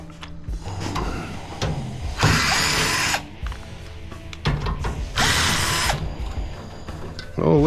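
Power drill driving out screws from an old 1980s microwave, two bursts of loud close whirring, each lasting about a second, between quieter clicks and handling noises.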